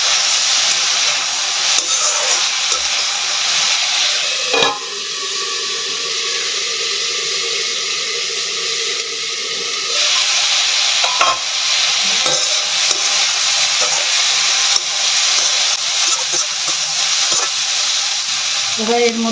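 Chopped capsicum stir-fried with vegetables in a pan for a healthy breakfast dish: a continuous loud sizzle with stirring scrapes and clatters, the hiss dipping briefly partway through before rising again.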